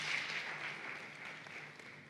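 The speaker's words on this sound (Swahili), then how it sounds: "Makofi tena mengi sana." An audience at a Tanzanian human rights conference attended by the president applauds in a steady, fairly distant wash of clapping.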